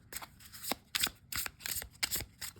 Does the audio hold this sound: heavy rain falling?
no